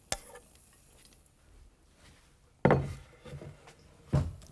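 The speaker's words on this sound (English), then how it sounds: "Now, that's sizzling. So I'm just going to place the garlic into the pan." Garlic dropped into hot oil in a pan, with a sharp loud sizzle bursting in near the middle, a brief clatter at the start and another burst of frying near the end, quiet background between.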